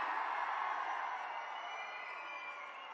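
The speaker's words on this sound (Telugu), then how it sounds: "మీరందరూ లేచి నిలబడి గట్టిగా చప్పట్లు కొట్టి స్వాగతం పలకండి" A large crowd greeting Telangana Chief Minister Revanth Reddy at an event in Station Ghanpur claps and cheers, a steady wash of applause and roaring voices that holds constant and slowly fades slightly.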